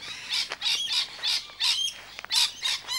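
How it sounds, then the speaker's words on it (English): Birds at a bird sanctuary squawk and chirp in repeated loud bursts, several shrill calls overlapping close by with short pauses between them, with no talking. "you can recognize it by the sound of"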